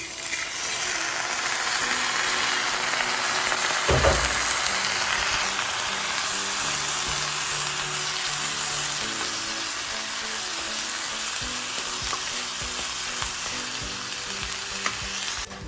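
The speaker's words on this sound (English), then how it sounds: "I'm adding my rice." Rice tipped into a hot frying pan for a jollof-style dolma sets off a loud, steady sizzle of frying and stirring, with a sharp burst of crackle as the grains land partway through, continuing without any talking.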